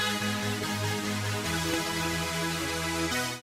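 A sped-up strings or pad stem lifted from a song, sounding stretched and slightly degraded: a dense, sustained harmonic wash with slowly shifting low chord tones, continuous and fairly loud for a few seconds, with no voices.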